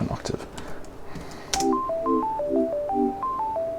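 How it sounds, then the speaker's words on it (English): A synthesized, ringtone-like melody of short bright beeping notes stepping up and down in a quick pattern, following a few soft clicks, close and clear. "I do think it still sounds like a ringtone"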